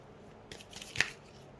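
A guidance card is drawn from a card deck during a reading, giving a short papery rustle and slide followed by one crisp flick or snap, close and quiet with no talking.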